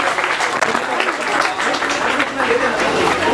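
A conference audience breaks into sustained, dense applause, steady and loud throughout, with a voice and crowd chatter mixed into the clapping.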